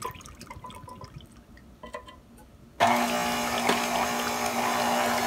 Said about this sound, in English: So add all that evaporated milk.